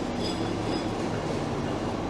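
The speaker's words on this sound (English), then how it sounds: "Here comes a train." A train rolling into Union Station in Toronto, a loud, steady rumble of wheels on rails with a brief faint squeal near the start, close by and continuous.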